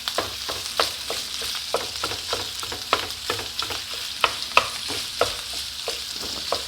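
Sausage is broken up while it cooks in a hot pan: repeated sharp scraping and prodding strokes from a utensil land in a quick, uneven rhythm over a soft, constant sizzle, close and fairly loud.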